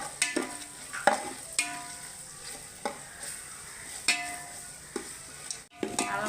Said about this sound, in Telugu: అల్లం వెల్లుల్లి ముద్ద శుభ్రంగా వేగిందండి.